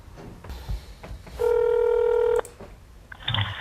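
A telephone number dialed on a keypad, several short tones followed by a long steady tone, close and clear, with faint voices around it.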